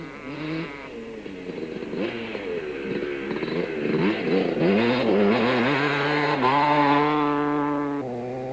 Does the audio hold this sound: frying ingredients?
no